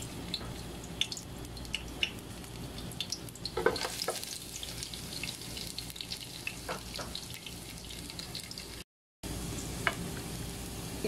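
Garlic sautéing in hot cooking oil in a pan for pancit canton, a steady close sizzle with scattered clicks and scrapes of stirring, with no talking, and a brief drop to silence near the end.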